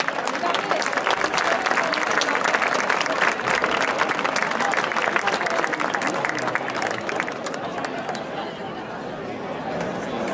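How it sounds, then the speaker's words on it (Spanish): Strong crowd applause at a gathering of dulzaina players in Carrizo de la Ribera, dense clapping mixed with chatter, sustained for about ten seconds before easing slightly. "les pido un fuerte aplauso"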